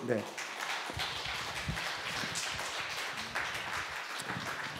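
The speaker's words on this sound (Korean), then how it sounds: "우리 목사님 박수로 우리 모시도록 하죠." A church congregation at a Sunday worship service in Mokpo claps to welcome the pastor, a steady, moderately distant patter of many hands sustained throughout.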